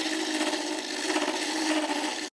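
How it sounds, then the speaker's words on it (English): Steady, close rasping of a saw and file worked back and forth across wood while fitting a crosscut saw handle, continuous for a couple of seconds before stopping abruptly. "A little sawing, chiseling, and filing is all that's needed to attach the top cap."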